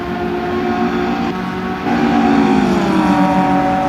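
BMW 325 Group N racing car at full throttle on the straight, a loud, sustained engine drone that rises in pitch through the gears, close and steady.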